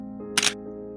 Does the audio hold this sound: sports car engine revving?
no